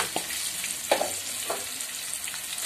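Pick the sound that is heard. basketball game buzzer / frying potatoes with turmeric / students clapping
frying potatoes with turmeric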